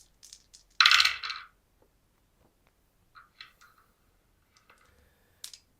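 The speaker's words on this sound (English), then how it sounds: "Dropping dice everywhere." Dice are dropped and rolled onto a tabletop during a Warhammer 40K tabletop game, with one loud clattering burst of rattling dice and then a few scattered light clicks as they settle.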